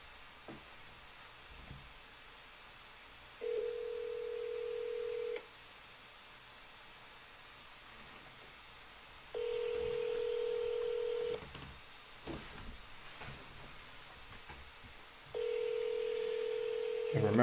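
Telephone keypad being hand-dialed during a cold call: three separate bursts of steady dial tone, each lasting about two seconds with quiet gaps between, and faint clicks and background noise in the pauses.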